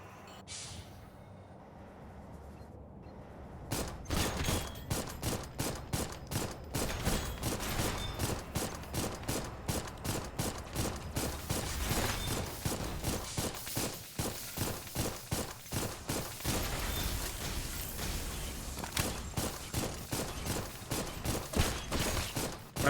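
A mech's weapon in a video game firing a rapid, rhythmic stream of sharp shots after a quiet opening, the bursts repeating steadily and loudly for most of the clip with no talk over them.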